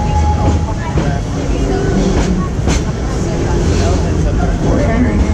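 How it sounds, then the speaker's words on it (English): A park train ride at Busch Gardens pulls into the Congo station, with a loud, steady rolling rumble and clatter from the railcars and faint voices underneath. "We're entering into the Congo train station."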